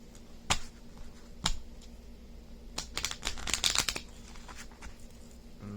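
Tarot cards being shuffled: two sharp riffle bursts early, then a longer flurry of rapid snapping shuffles, close and crisp, with no talking.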